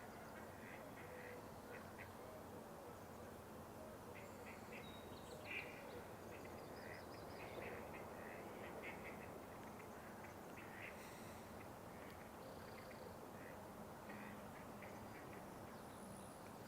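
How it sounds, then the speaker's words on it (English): Ducks quack repeatedly in short bursts at a marsh over a constant outdoor wash of background noise, with other birds calling faintly. "Got some hungry ducks."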